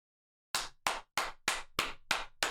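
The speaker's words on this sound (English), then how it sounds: "Always gotta clap it up" Seven sharp hand claps in a steady rhythm, close and loud, following a brief silence, with no voices.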